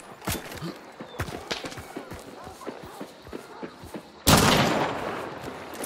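Gunshots in Hunt: Showdown, a few sharp cracks among steady footstep-like thuds, then one loud close blast near the end that trails into a long rumbling decay.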